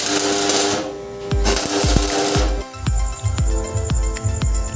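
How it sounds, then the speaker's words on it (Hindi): Arc welding done with a homemade electrode holder, giving harsh hissing and sizzling bursts broken by repeated sharp pops and thuds, loud and close, with a brief gap partway through. "देखिए ये देखिए, बहुत ही अच्छा वेल्डिंग हो रहा है।"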